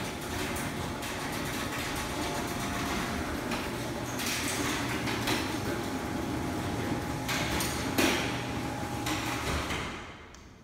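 A Touch 'N Go Model 1000 overhead garage door opener runs with a continuous mechanical rumble and rattle for several seconds, with scattered clanks and a low drone, fading at the end.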